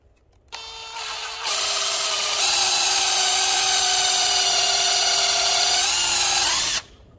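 Power drill boring a hole in oak for a dining table build: a close, loud motor whine that steps up in speed twice and holds steady for several seconds before stopping.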